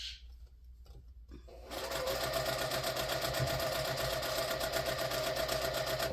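A sewing machine runs steadily and loudly, chain piecing quilt blocks for an X table runner, starting after a brief quiet moment and then stitching continuously without pause.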